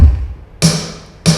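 Three loud, punchy kick drum hits from a D4 electronic drum module set up for a parade sound truck, each with a sharp attack and quick decay, spaced about 0.6 seconds apart with no talk.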